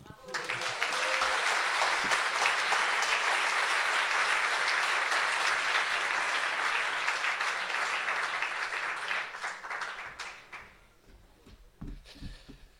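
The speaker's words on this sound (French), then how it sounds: "On peut applaudir Belka et tous les poètes qui ont participé à cette scène." An audience at a poetry night breaks into sustained applause for the poets, dense and even for about ten seconds before thinning out and fading, followed by a few faint knocks and rustles.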